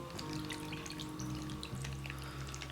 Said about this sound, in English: Okay, so we're gonna add our drinking water to that fill line there.